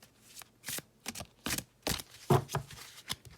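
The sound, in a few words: drawing tarot cards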